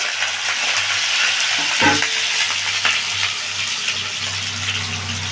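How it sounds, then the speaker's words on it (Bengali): Potatoes frying in hot mustard oil in a wok give a steady, close sizzle with occasional stirring scrapes and a brief louder clatter partway through, with no voices. "তেলটা গরম হয়ে গেছে আমি আলু দেবো সঙ্গে আলুটা ভেজে নিচ্ছি"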